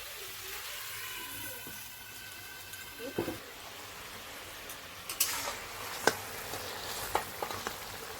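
Tomatoes simmer in a little water in a covered pan, giving a steady soft hiss with a few sharp clinks and taps near the end.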